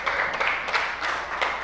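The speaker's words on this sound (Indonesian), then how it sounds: "Tepuk tangan semuanya." A classroom of students clapping together in a short burst of uneven, fairly steady applause, heard from a slight distance with no talking.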